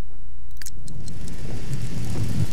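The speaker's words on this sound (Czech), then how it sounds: "On to uhasí déšť" Rain falling in The Sims 3, a loud, steady rushing downpour with a deep low rumble underneath, continuous throughout with no voices.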